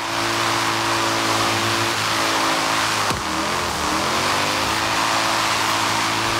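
A V8 car drifts in Forza Horizon 3, its engine holding a loud steady drone before a sharp downshift and rev swoop midway, then climbing again, with tires faintly squealing throughout.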